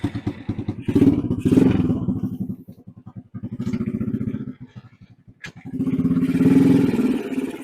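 A Boom Vader 125 motorcycle, a Honda Grom clone, cranks and fires up nearby, its single-cylinder engine chugging and idling in uneven pulses with brief revs, loud and alone without talk.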